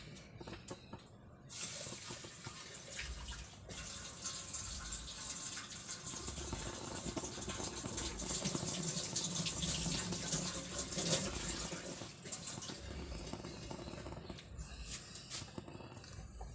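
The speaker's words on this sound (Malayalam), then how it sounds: "കുറച്ച് അരി എടുത്തു കഴുകി അടുപ്പത്തെടുത്ത" Running water splashes steadily into a bowl as rice is washed, with faint handling noises, continuous for the whole stretch without talk.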